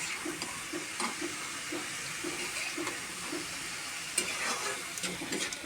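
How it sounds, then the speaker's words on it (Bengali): Egg and chopped ridge gourd stirred together in a pan to mix, giving a steady soft sizzle and scraping with light rhythmic stirring knocks, no talk. "ডিমের সাথে ভালোভাবে মেরে নেবে যাতে ডিম আর তরুটা একসাথে মিশে যায়"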